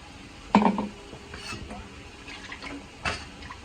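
Coconut being poured into a pot of vatha kuzhambu, with a sharp clatter of utensils against the pan, soft liquid stirring and scraping, and a second clink later, all close by.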